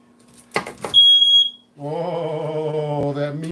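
A kitchen smoke alarm set off by a burning meat rack lets out a short, loud, piercing beep, then a sustained, buzzy, harmonic tone that carries on steadily to the end, with clattering just before the alarm starts.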